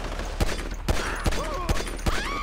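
Gunfire in the video game GTA 5, five sharp shots spaced irregularly about half a second apart over a steady background of game ambience, loud and close.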